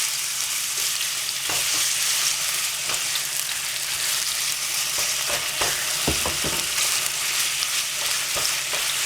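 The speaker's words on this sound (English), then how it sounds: "Kind of stir it around so you can break down the turkey" Ground turkey fries in olive oil with a loud, constant hissing sizzle up close, broken by irregular spatula scrapes and taps as the meat is stirred and broken apart.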